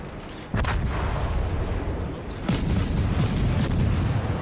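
Naval guns fire from British destroyers in a warship battle game, with booming gunshots standing out over a steady roar of engine and sea noise, about two of them loud.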